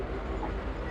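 Train arriving at Taraknagar station, a broad steady rumble of a rail carriage filling the moment, close and continuous, without distinct clatter or voices.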